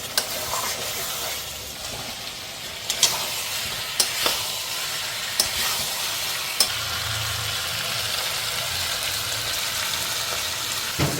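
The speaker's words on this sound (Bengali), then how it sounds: "এবার একটু মশলাটা কষে নেব। বেশ তেল ছেড়ে দিয়েছে, টমেটোগুলো সব গলে গেছে" Spice paste frying in oil with melted tomatoes, a steady hiss of sizzling throughout, broken by a few sharp clicks and taps of stirring.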